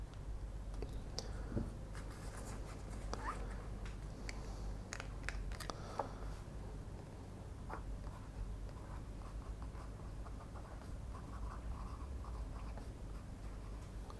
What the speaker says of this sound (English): Very nice feedbacky line, very practical for everyday writing.